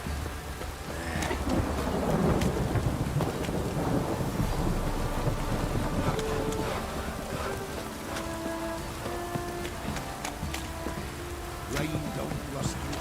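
Heavy rain pours in The Witcher 3 while thunder rumbles, loudest early on. A continuous hiss of downpour runs throughout, and voices speak faintly beneath it.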